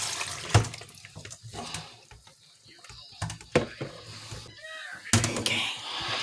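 Soaked soy chunks are strained, water splashing and running in bursts with clattering knocks of a strainer or container, loud at the start and again near the end; a voice speaks briefly in between.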